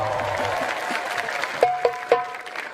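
Scattered applause from an audience at a religious lecture, a steady wash of claps with a few sharper accents, over a faint, tonal background.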